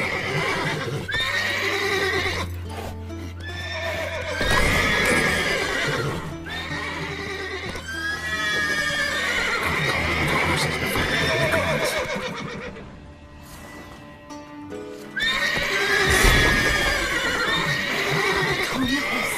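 Horses in The Witcher 3 whinny and neigh repeatedly, with hooves clip-clopping underneath. Several long, shrill calls rise and fall with brief pauses between them, close and fairly loud.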